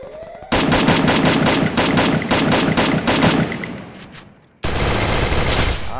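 Rapid automatic gunfire in the video game Free Fire rattles out in a long, loud stream of closely spaced shots. It fades briefly, cuts out, then a second burst starts just as hard, with no talking over it.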